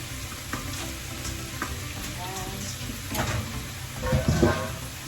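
Chicken sizzles and fries in a pan, a steady close crackle with occasional stirring scrapes that grow louder near the end.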